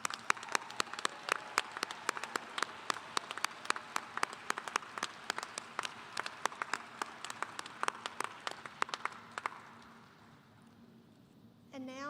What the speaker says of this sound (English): Let's give these graduates a round of applause as well.